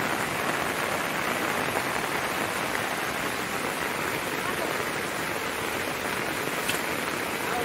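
Steady monsoon rain pours over flooded rice fields in a Konkan village, making a dense, unbroken hiss of rainfall that stays level throughout with no gaps.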